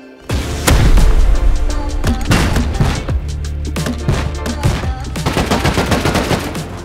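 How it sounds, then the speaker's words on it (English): Rapid bursts of gunfire and heavy blasts during a large team raid in the Rust video game, with a rocket launcher firing amid loud, dense, continuous shooting up close. "Okay, I'm rocketing."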